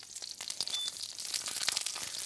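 Pressed eggplant slices fry in a pan for a Greek-Cypriot moussaka, giving a soft, steady crackling sizzle with faint spits and pops throughout.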